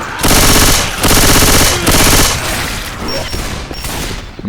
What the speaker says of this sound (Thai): นี่ปืนลูกซอง